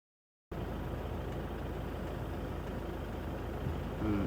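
A vehicle rolls slowly along a heavily muddy road, its engine a steady low rumble close by that begins abruptly after a moment of silence and swells slightly near the end.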